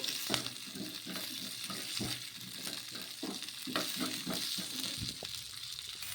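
Green chillies and peanuts sautéing in a pan, stirred through with a steady crackling sizzle and repeated scraping strokes of the spoon, close and moderately loud, with no talk.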